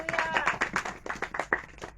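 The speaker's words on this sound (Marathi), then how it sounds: "आपण जोरदार टाळ्या वाजवूया स्वतःसाठी." A congregation at a church gathering claps together in a brief, uneven burst of hand claps, fairly close and slightly scattered.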